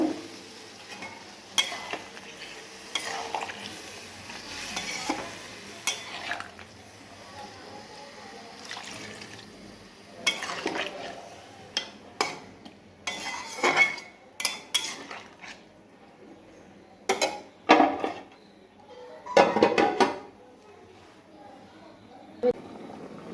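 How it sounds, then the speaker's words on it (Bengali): Pot lid lifted and potato and ridge gourd stirred in a pot, with scattered metallic clinks, scraping and clattering bursts, some louder near the end, over quiet kitchen background while someone talks. "বন্ধুরা আমরা ঢাকনাটা তুলে আরেকটু নেড়ে দিলাম।"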